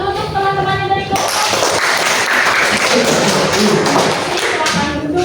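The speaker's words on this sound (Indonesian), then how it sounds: "tepuk tangan dulu untuk teman-temannya dari kelompok" A class of students claps for a group of classmates in a teaching session, dense and loud close-up clapping that follows a brief voice and continues steadily to the end.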